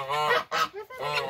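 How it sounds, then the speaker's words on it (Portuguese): An angry domestic turkey on a small farm gives three loud, harsh, honking gobble calls in quick succession, close by and alone with no talking. "vamos ver o peru como é que ele tá valente"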